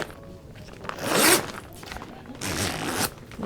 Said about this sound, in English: So I'm going to just zip this one up as well.